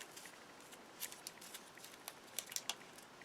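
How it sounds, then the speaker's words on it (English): Scissors snipping paper while making a card topper at a craft table, quiet scattered crisp snips and light rustles at close range, faint overall and with no talk. "Scissors."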